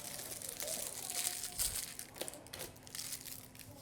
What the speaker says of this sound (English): Gonna peel this thing off.